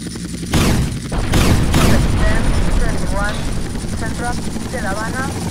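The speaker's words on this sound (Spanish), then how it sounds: "helicóptero." Helicopter in the video game GTA Vice City, a loud continuous rotor and engine roar throughout, with heavy bursts of impact or gunfire noise early on and warbling game tones over the drone.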